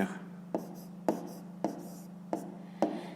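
Pen strokes on paper while working a grade 5 math exercise, six short scratchy strokes roughly half a second apart over a steady low hum, close and fairly quiet with no voices.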